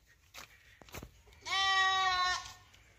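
A goat gives one clear, close, wavering bleat lasting about a second, preceded by a few soft knocks and rustles.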